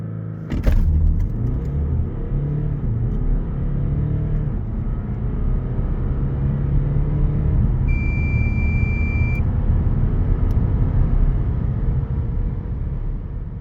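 An Audi A5 Avant 2.0 TDI Quattro diesel engine roars up from a standstill in a 0-100 km/h run, rising hard and loud through the revs, with a brief electronic beep partway through.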